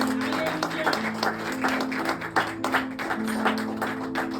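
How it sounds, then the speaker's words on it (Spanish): A church congregation gives a round of applause during a sermon, a full, steady clatter of many hands with some sharper individual claps, sustained and fairly close. "Den un aplauso al Señor Jesucristo."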